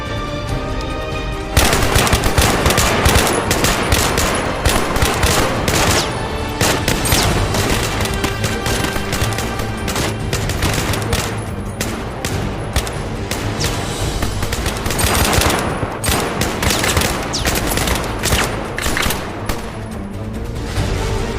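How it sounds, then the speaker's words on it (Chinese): Sustained rifle volleys from a line of soldiers in a military drama: dense, loud, overlapping gunshots crackle almost continuously for about twenty seconds, with no talking. "开始射击。"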